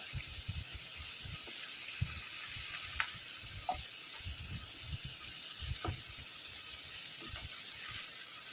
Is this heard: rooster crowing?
no